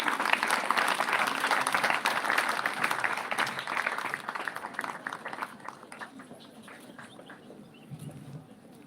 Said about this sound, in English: I want us to welcome with very hearty claps.